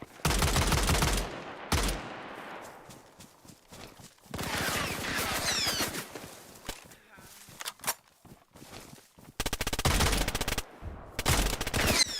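Loud bursts of automatic and single-shot gunfire ring out in the survival video game DayZ, coming in several close, rapid volleys separated by quieter gaps, with a player talking at times.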